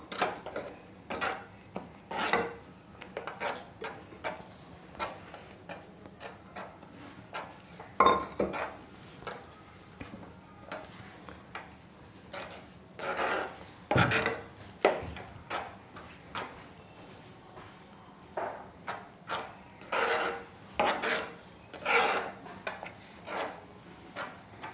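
A spoon scrapes and clinks against a pan in irregular, sharp taps as a mango and coconut laddu mixture is stirred and cooked, close and fairly quiet, with no talking.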